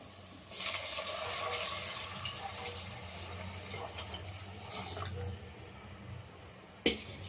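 About three and a half glasses of water poured into a pot of soaked basmati rice for egg biryani, a steady splashing rush that runs for several seconds and ends with a clunk.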